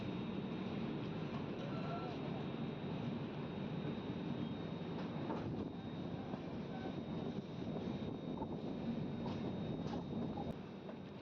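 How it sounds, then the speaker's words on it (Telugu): Machilipatnam-Bidar Super Fast Express train moving out of Peda station, a steady continuous rumble of wheels and carriage noise heard from on board, with no clear breaks over the whole stretch. "పేడ నుంచి మన ట్రైన్ మూవ్ అయింది"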